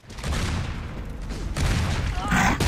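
Gunfire in Gears of War 3 during a ranked team deathmatch on the Clocktower map, sounding as loud, sustained rattling bursts with booming impacts that come close together, with a player's voice briefly audible under the shooting.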